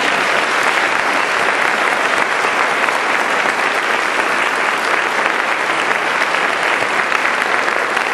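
Sustained, loud applause from a banquet audience congratulating honorees at a women's honoring event, a dense, even patter of many hands clapping throughout with no talk.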